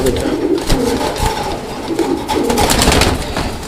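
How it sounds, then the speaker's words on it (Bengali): Racer pigeons coo softly in a noisy loft, with fluttering and shuffling movement throughout and a voice speaking nearby. "খুব ছটফটা কবুতর"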